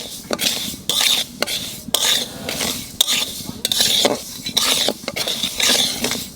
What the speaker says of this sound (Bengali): তাই মুগ ডালটা একটু বাজিয়ে নেব।